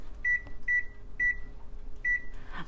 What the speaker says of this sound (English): I'm gonna put the timer on for 20 minutes.